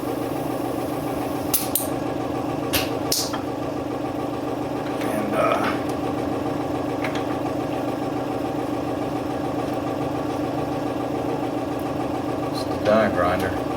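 An air-powered die grinder mounted on a lathe runs in a steady, close mechanical drone with a few faint clicks and knocks on top.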